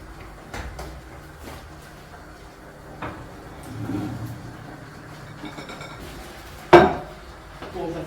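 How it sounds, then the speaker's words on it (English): Onion, meat and potatoes stirred together in a pot, faint scraping and shuffling with occasional light clinks and one sharp metallic knock near the end, close and quiet, with no speech. "All that we do now is just to stir the whole thing through, so that the onion and the meat and the potatoes are nice and mixed."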